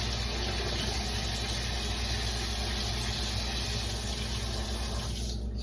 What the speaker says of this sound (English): We'll run that through water